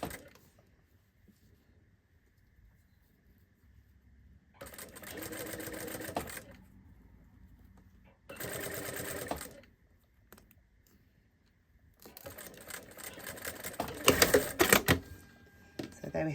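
A sewing machine stitches a replacement fly zip onto its facing, with three separate bursts of steady, rapid whirring and needle chatter split by quiet pauses, the last run the longest and loudest, close up.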